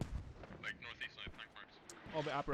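Mortar rounds firing in the military video game Squad, a series of deep booming blasts with sharp reports and rumbling tails, fairly loud and close, followed by voices talking near the end.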